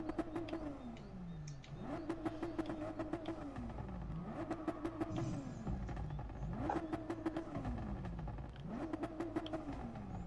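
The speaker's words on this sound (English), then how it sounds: "listen to the pops of this gad" Ferrari engine in a racing video game, revving in repeated rising and falling sweeps with crackling exhaust pops on each lift-off, loud and continuous with no talk.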